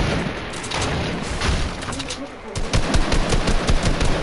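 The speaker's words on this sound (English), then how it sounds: "Oh, I'm getting shot from behind." Rapid bursts of automatic gunfire in a shooter video game, crackling and continuous over a few seconds with a busy rattle toward the end, while players talk over it.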